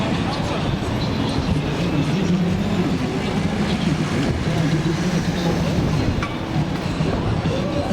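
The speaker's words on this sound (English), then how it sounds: "See that double-decker tram?" A double-decker balloon tram in Blackpool rumbles along its tracks nearby, producing a continuous low mechanical drone with faint rattling over it.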